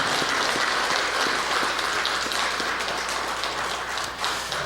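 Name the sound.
congregation applause welcoming new members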